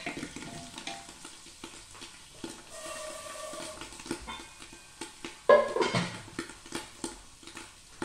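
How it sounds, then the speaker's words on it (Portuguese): Ground beef sizzles in a tall pressure cooker pot, with uneven stirring scrapes and clanks from a spoon against the metal, a louder clatter near the middle, close and without talk. "Vou pôr a carne moída aqui dentro."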